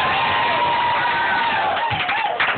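Applause and cheering from a crowd watching someone dance, loud and continuous with shouts and whoops mixed into the clapping, a few excited voices rising near the end.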